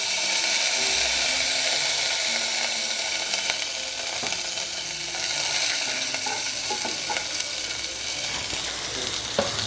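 Lightly browned beef pieces fry in a pan for teriyaki after half a cup of soy sauce goes in, giving a loud, steady sizzle with scraping and clinking as the meat is stirred.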